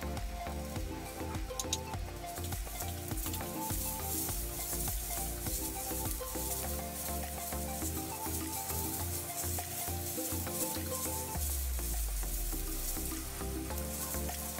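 Fish curry of catfish with bamboo shoots sizzles and fries steadily in a pan while being stirred, continuous close crackle with scraping stir strokes throughout, no talking.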